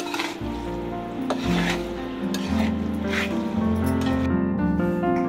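Korean-style chow mein is stirred and tossed in a frying pan, making a steady sizzle with wet squishing and scraping strokes over a sustained tonal background.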